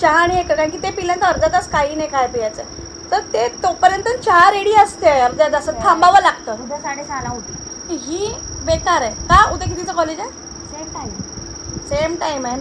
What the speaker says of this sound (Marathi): एवढा भयंकर आणि घाण आवाज येतोय ना, हा AC चा आवाज आहे आमच्या.